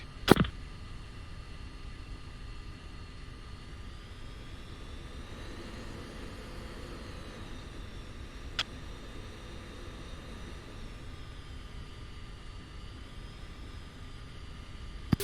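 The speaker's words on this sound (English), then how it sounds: "Alright, I'm on final." A video-game airplane on final approach to land gives a continuous engine drone with a faint high whine above it, and a few sharp clicks break the hum.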